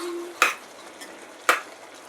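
Stirring a Maharashtrian Bhogi vegetable bhaji in a pan after fresh grated coconut goes in: two sharp scraping strokes of a spoon against the pan, about a second apart, over a faint steady sizzle.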